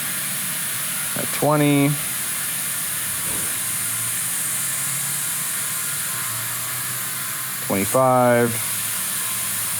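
Two bursts of rushing air into a Ford Bronco Raptor tire through Monster Valves, each lasting about half a second with a tonal whistle, separated by quieter stretches while someone talks.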